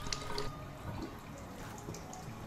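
Water streams steadily from a Kangen water ionizer machine into a container, a close, continuous splashing trickle with faint dripping and no talk.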